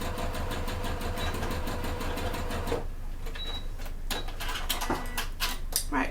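Sewing machine stitching a fold-over clutch bag, a fast steady motor hum and needle rattle running for about three seconds, then halting into short bursts and clicks as the stitch is reversed.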